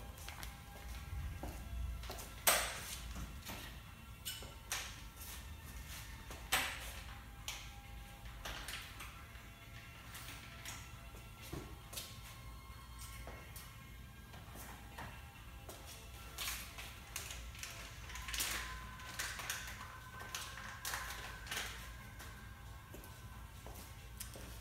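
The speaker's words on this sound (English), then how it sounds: "I'll open the package and give you a better look." Packaging for a Shimano XTR brake lever being opened by hand: scattered crinkles, rustles, taps and small plastic clicks at irregular intervals, close and quiet, with no talking.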